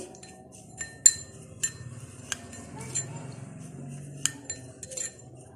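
A spoon clinks and scrapes against a bowl while spices are mixed into gram flour with salt, giving irregular sharp taps and soft stirring, close up and with no talking.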